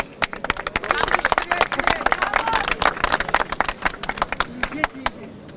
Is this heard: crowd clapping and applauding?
yes